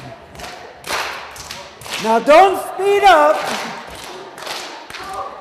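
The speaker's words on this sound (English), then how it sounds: "Clap, one, clap, step, step." Hand claps and stamping steps from a group learning a Ghanaian dance, sharp percussive hits in a steady rhythm, mixed with a sung melody and an instructor's spoken direction.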